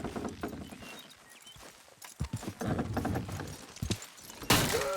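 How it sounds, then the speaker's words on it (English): Horses hauling a load in the Red Dead Redemption video game, with a rough run of hoof clops, heavy thuds and scraping clatter, fairly loud and close, ending in a louder crash-like burst. "Horses will pull it clean down"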